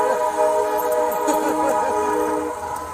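A passing train sounds its horn: a loud, sustained multi-tone blast lasting about two and a half seconds over a low rolling rumble, then trailing off.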